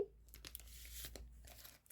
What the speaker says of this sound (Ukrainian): Давайте відкриємо цей пакетик.